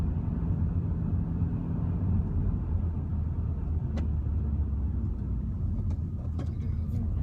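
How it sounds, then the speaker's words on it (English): Big lorries pass around a bend on a remote road, a continuous heavy low rumble of engines and tyres heard from inside a vehicle, with a few faint high clicks and creaks. "Big lorries coming around this bend."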